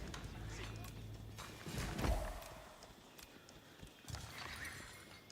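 Video game spear horsemen produce a loud whinny and clopping hooves amid battle clatter, with someone commentator talking over the sounds.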